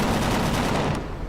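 Turret gun in the space survival game Empyrion Galactic Survival firing at attacking drones: a loud, dense burst of rapid automatic gunfire that runs nearly the whole moment before cutting off abruptly.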